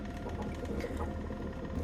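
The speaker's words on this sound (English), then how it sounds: "The speed and precision of this printer compared to my old one, already right off the bat" A newly bought 3D printer running, a steady low mechanical whir with faint rhythmic stepping, continuous and fairly quiet throughout, with no voices.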